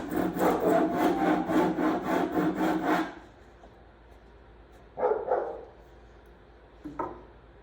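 Hand tool rasping and shaving the edge of a paulownia wood paddle board rail, a steady rhythmic stroking for about three seconds, then a quieter pause with two short scraping passes near the end.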